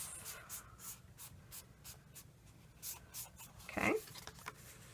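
Card base paper being folded in half and creased by hand: faint, close rubbing and scraping strokes repeating in a loose rhythm, with one brief louder scrape.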